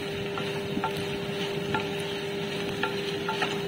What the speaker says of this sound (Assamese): আৰু এনেদৰে মই লৰুৱাই আছোঁ মাংসখিনি অকণমান সিজালৈকে।